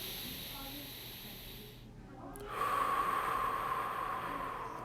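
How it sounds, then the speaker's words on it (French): Slow, steady breathing in and out at a relaxed pace, each breath a soft airy hiss with a long pause between, close and quiet against faint background hum. "on inspire, expire, on inspire, on expire"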